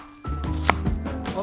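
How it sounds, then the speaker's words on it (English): Onions being sliced with a knife on a board: a quick series of close, crisp cuts and taps following a brief quiet start. "I'm gonna take about 2 medium-sized onions and slice them."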